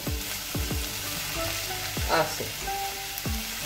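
Rice and vegetables sizzle steadily in a frying pan while a utensil scrapes and stirs in repeated strokes, with a short spoken word partway through.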